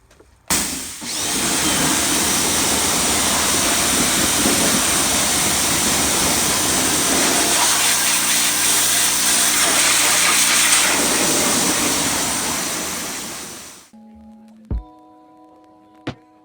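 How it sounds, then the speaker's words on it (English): A Ryobi pressure washer sprays a car engine bay, a loud steady hissing spray with motor whine running for about thirteen seconds before cutting off, followed by a few clicks and a short tone. "I'm going to go ahead and pressure wash this engine bay"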